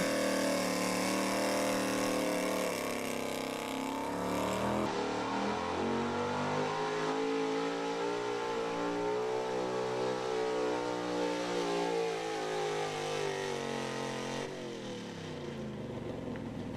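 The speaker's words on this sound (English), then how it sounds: "the truck sounded healthy" A 1977 Ford pulling truck named Roxbury Lunatic roars down a pulling track at Cookport, Pennsylvania, its loud engine holding a sustained, strained howl that climbs and settles through the run without any voices.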